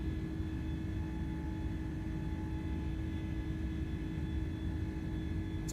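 Steady, droning roar of an Airbus A310 airliner's engines in Microsoft Flight Simulator, an even cabin rumble with faint tonal whine, unchanging and continuous with no talk.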